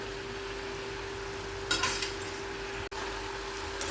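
French fries frying in hot oil give a steady, soft sizzle, with one brief scraping stir partway through and a faint constant hum underneath.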